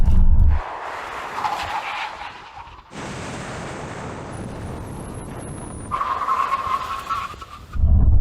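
Audi S8 braking hard in a test, tires skidding and squealing in two long bursts separated by a roaring engine-and-road stretch, loud and close with no talk.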